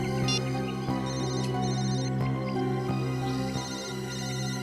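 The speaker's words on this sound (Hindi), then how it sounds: "फोन फिर से बज रहा है सर।" A mobile phone ringtone plays continuously, a steady looping electronic melody with tonal harmonics, heard at moderate volume in an indoor scene during a police investigation.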